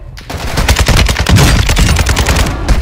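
Rapid automatic gunfire in Call of Duty Warzone 2.0, a loud, dense stream of close shots lasting nearly three seconds with only brief gaps, with no voice over it.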